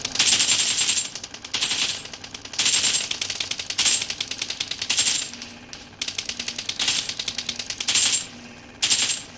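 An AKM assault rifle fires on full auto in PUBG, heard as repeated loud rattling bursts of rapid shots, each lasting about a second, separated by short pauses across the whole stretch, with no speech.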